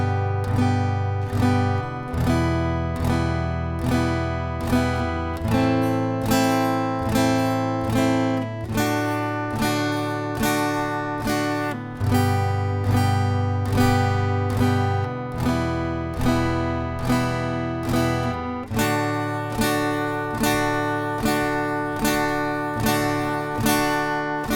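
An acoustic guitar plays a Preliminary Grade rhythm study as steady, evenly spaced strums, moving through several chord changes at a relaxed, unbroken pace, clear and close with no voice.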